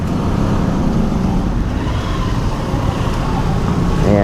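A Raider 150 Carb motorcycle fitted with an MDL exhaust runs loudly up close, a rough continuous engine note with a slight rise in revs near the end.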